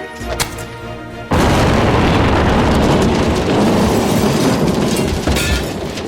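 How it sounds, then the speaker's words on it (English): Gas explosion in a house, a sudden heavy boom that swells into a sustained loud roar and rumble and lasts several seconds. "the explosion occurred"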